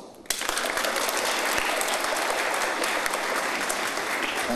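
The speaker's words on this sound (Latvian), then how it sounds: "aplausus." Audience at an award ceremony bursting into applause after a brief quiet moment, then sustained loud, even clapping from a large crowd.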